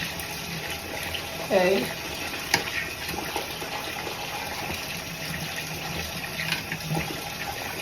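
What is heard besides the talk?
running water while rinsing a curly wig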